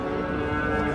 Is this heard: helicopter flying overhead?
no